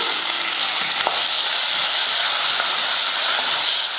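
Tomatoes with salt sautéing in a pan give off a steady, close frying hiss and sizzle, with a faint clink or two of stirring and no voices.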